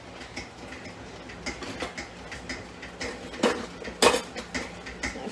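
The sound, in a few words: stirring cranberry juice in a pot with a metal spoon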